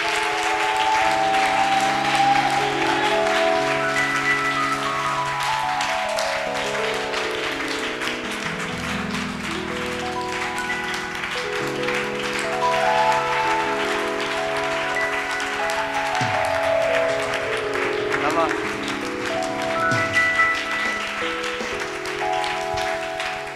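A church congregation claps steadily and continuously for over twenty seconds, the applause mixed with toned music playing underneath.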